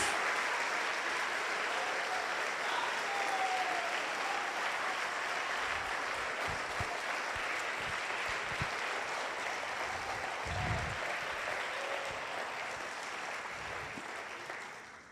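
Steady, sustained applause from a large church congregation, dense clapping that holds for a long stretch before slowly fading.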